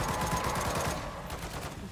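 Sustained fast gunfire rattles on through a zombies round in MW3, a dense rhythmic burst of shots close up and loud with no break.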